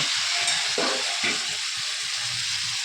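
Egg poured into a hot pan and stirred while making vegetable chow mein: a bright close sizzle under repeated scraping strokes of a spatula, short and continuous.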